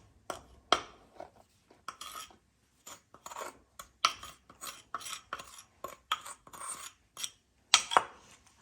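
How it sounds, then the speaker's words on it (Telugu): Spoon scraping and clinking against a bowl while sugar is stirred into melted chocolate and butter, a run of short, close, irregular scrapes and taps with brief pauses between strokes. "మంచిగా మిక్స్ చేసుకుందాం."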